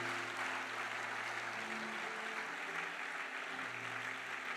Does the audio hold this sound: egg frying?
no